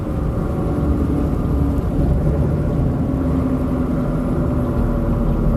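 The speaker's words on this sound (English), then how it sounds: "Like right there is the engine brake." A truck's engine brake on a Kentucky backroad, a steady low rumbling drone from inside the cab that holds evenly throughout with no voices.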